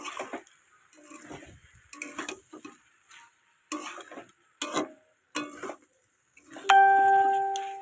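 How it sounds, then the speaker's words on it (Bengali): Small white shrimp and vegetables are stirred in a pan, giving short, separate scrapes and clinks of a spoon against metal, followed by a sustained ringing tone at the end. "এবার এটাকে আমি সুন্দর করে নাড়বো"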